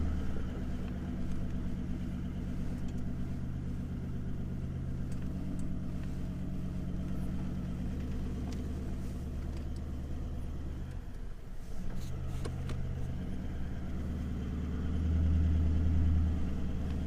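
A 4x4 crawls in low range over a washed-out remote track near Israelite Bay and Cape Arid National Park in Australia, its engine a steady low rumble with a brief dip and a swell of revs near the end.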